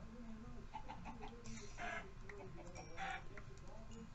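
Chickens in the Minecraft video game cluck in short, scattered bursts at moderate distance over a steady low background hum, with a couple of brighter clucks standing out.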